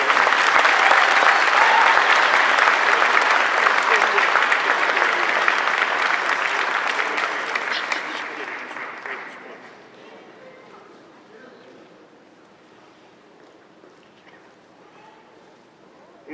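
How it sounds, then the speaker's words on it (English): An audience at a commencement ceremony gives a loud, sustained round of applause for a graduate, dense clapping holding steady for several seconds before tapering off into a quiet room. "one last round of applause for Ashley Craig"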